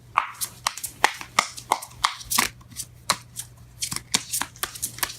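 Tarot cards being handled and shuffled by hand, a series of close crisp riffling snaps and slaps in irregular rhythm, clear and fairly loud.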